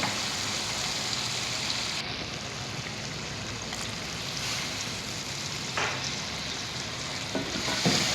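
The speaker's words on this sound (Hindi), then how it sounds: "अच्छे से आपने 5 से 6 मिनट भून लेना है मसालों को चिकन के साथ" Ground red chilli, turmeric, coriander powder and garam masala fry with chicken in a pan, giving a steady, close, continuous sizzle with a few stirring scrapes and no talking.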